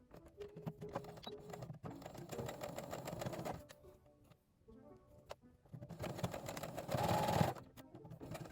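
A home sewing machine stitches across the collar of a fabric blouse in close, steady whirring runs, pausing briefly near the middle before a second run that grows slightly louder.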